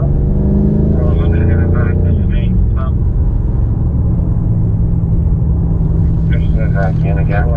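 A BMW M5 Competition on the Indianapolis Motor Speedway F1 road course, its engine note rising hard as it powers out of a corner, then settling into a steady loud drone, with a driver talking over it.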